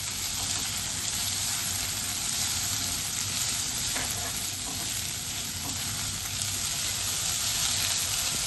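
Vegetables and sweet corn sautéing in a pan for a red sauce pasta, a steady close sizzle and crackle of frying with faint stirring, no talk.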